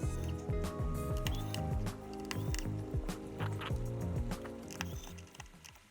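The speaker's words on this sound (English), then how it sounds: "let's just proceed to unscrew a couple of them" A small screwdriver works screws out of a Surface laptop that has a bulging battery. The result is a continuous close ratcheting, whirring mechanical chatter with rapid repeated clicks over several seconds.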